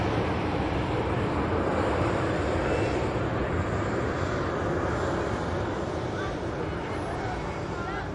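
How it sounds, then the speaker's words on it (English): A Brussels Airlines airliner rolls for takeoff on runway 23 left at Manchester Airport, its engines a constant, loud broadband roar that eases slightly toward the end. "Brussels Airlines now rolling on 23 left."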